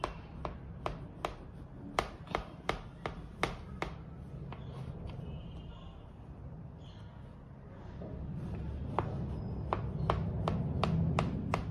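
A knife cuts through a spongy eggless cake, making a series of sharp taps on the board in two bursts, with soft rubbing in between and no talking.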